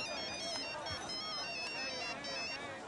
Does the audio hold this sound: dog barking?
no